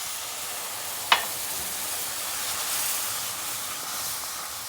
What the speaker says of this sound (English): This always gives out a lot of steam, so we have to be careful how we're adding